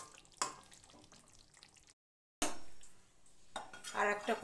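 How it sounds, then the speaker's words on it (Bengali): A kadai is set down on a kitchen stove with a few sharp metallic clanks and scrapes at close range, separated by a short silence, amid faint kitchen noise. "আর একটা কড়াই বসিয়ে দিলাম"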